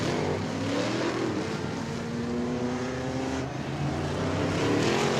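Race cars lap Auburndale Speedway in a continuous engine roar, with rising and falling whines of several cars passing at close to middle distance.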